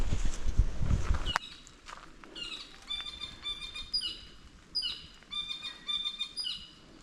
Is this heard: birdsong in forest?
yes